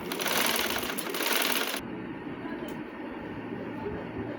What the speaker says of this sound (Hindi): ये गले का मिड करके इसको स्टिच कर दिया, आपस में दोनों हिस्सों को जोड़ दिया।